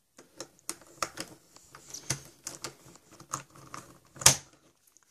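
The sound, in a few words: speed cube being put back together, plastic pieces clicking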